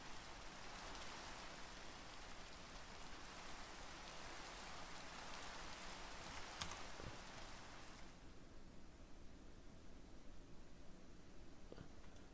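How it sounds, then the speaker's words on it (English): Steady rain hisses in a Lord of the Rings video game, a dense continuous patter that drops somewhat softer after a few seconds and carries on without talk. "We got that rain."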